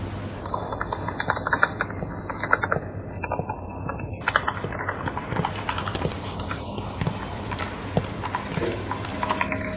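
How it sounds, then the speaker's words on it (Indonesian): Continuous rapid typing on a computer keyboard, close and clear, with dense irregular clicking keystrokes throughout and no talk. "cara kamu mengetik sangat elegan"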